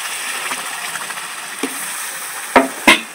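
Strained green mango pulp is added a little at a time to hot caramel and stirred, a soft continuous sizzle with faint scraping and two sharp clacks near the end.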